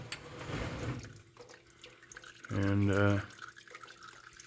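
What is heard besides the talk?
fluid draining from 1977 Chevy truck transmission pan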